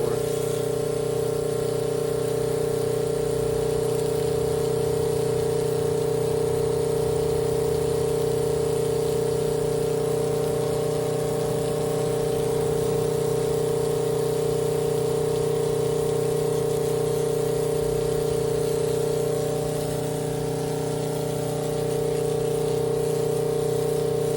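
A 12V softwash pump with a blend manifold running as it primes and pumps liquid, a steady unbroken motor hum with strong tonal whine, loud and close, holding constant throughout.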